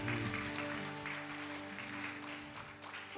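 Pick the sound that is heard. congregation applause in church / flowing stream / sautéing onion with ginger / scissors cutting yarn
congregation applause in church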